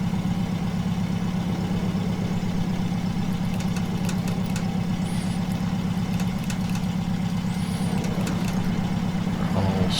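Engines of a Latecoere 631 six-engine flying boat running at low RPM in Microsoft Flight Simulator 2020, a steady droning, knocking hum held evenly throughout with faint clicks, no speech.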